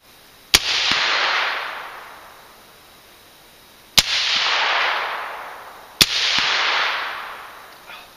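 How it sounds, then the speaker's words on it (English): Three sharp rifle shots from a black rifle at a steel groundhog target 100 yards away, each a loud crack followed by a long rolling echo, spaced a few seconds apart with no talking. "every time I squeeze the trigger, it goes bang"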